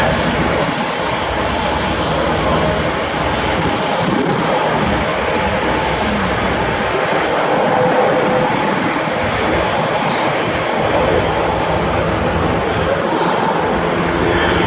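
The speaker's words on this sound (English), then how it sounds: "you'll see the three LUHs, the NH90 and the CH-53 all running in" Military helicopters, three LUHs, an NH90 and a CH-53, fly in at an airshow, a loud, steady rotor and engine roar filling the air without a break, with no talk.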